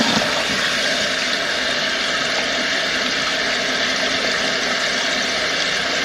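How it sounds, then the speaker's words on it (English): Steady, loud rushing of water refilling a toilet tank after the supply is turned back on, a continuous broadband hiss with a low hum beneath, no pauses or talk. "So the water's filling up in the tank."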